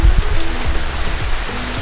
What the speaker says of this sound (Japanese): 激しい雨になってまいりました。